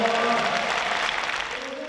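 A crowd at a Japanese basketball all-star game welcoming visiting Korean stars, a steady wash of applause and cheering throughout, with a voice speaking over it.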